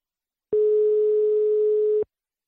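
Telephone ringing tone while a call connects: a single steady electronic tone sounding for about a second and a half, clean and loud, starting and stopping abruptly against silence.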